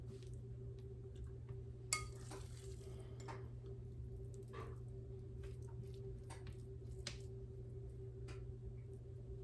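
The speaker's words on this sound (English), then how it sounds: "we're gonna just put a couple little dollops onto our baking pan" A spoon scrapes and drops small dollops of double chocolate cookie dough onto a baking pan in a run of soft, wet ticks and squishes, faint and close, over a steady low hum.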